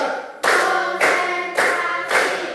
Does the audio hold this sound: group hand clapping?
yes